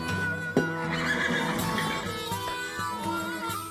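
Horses neighing inside a stable, a loud close whinny rising over a busy background of stall noise and shuffling, with a few sharp knocks.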